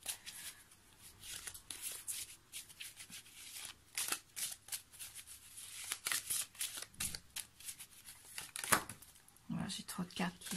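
Tarot cards riffle and shuffle in quick papery bursts, some slipping and dropping onto the table, close and fairly quiet beneath someone talking throughout.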